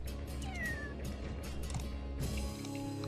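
A kitten in a Dwarf Fortress game gives a couple of short meows, clear over a busy background of game sounds and clatter.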